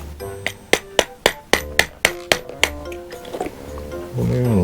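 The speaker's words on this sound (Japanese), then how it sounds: "ゴムハンマーで大丈夫ですね。" A rubber mallet drives a spindle into a door lock in a resort condominium, eight crisp close knocks at a steady pace, then lighter taps fading before a short voice at the end.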